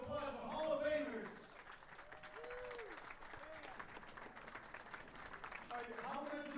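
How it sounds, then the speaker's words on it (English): Applause from a bowling alley crowd for Hall of Famers at an exhibition event, moderate clapping running under a voice that speaks at the start and end. "Please give a big round of applause for Hall of Famers."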